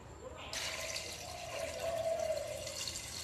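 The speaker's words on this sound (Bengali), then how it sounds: "এবার দেব জল।" Water pouring into a pressure cooker holding two washed potatoes, a steady splashing fill after a brief quiet start, with a rising tone as it fills.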